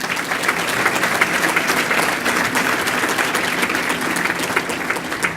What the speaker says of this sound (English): Please, let's give a hand of applause to Alex.